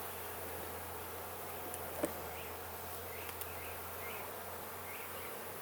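Bees buzz steadily at a beehive, a continuous low insect drone with a few brief sharper buzzes as individual bees pass close, no talking.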